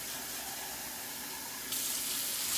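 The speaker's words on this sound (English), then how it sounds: "rinse them out and then use that water to rinse out the kidney beans" Tap water runs steadily into a sink while kidney bean cans are rinsed out for chili, a continuous close splashing that gets louder and brighter near the end.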